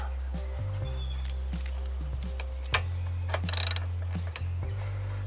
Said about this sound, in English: gently slip that through there, and then just bolt it up